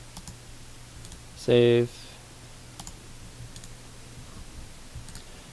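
Computer mouse clicks sound as a few faint, sharp ticks spread across a quiet room while someone works through an Access database wizard, and a person briefly speaks partway through.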